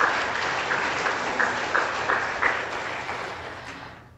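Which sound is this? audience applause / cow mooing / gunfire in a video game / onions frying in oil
audience applause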